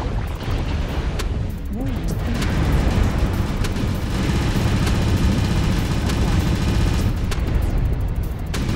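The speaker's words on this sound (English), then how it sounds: "Who keeps shooting missiles at me?" Dense, continuous barrage of missile fire and explosions in the MechWarrior Online video game, loud and close, with overlapping blasts and impacts throughout and a voice talking at the start.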